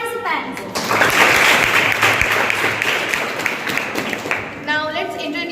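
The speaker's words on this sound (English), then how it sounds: "Let's give a big round of applause for the fellow participants" Students at a school debate on the Union Budget break into a big round of applause for fellow participants, dense clapping rising after a short voice and fading as a speaker returns at the end.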